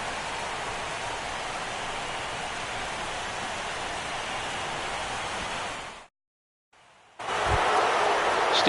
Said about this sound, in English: Rain continues to fall here in the 6th.